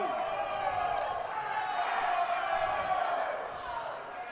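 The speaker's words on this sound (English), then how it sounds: "Crowd not happy with things." Unhappy crowd at a college basketball game between California (PA) and Pitt-Johnstown, a broad murmur and scattered shouts of disapproval rising and falling in the arena, with a commentator's voice over the top.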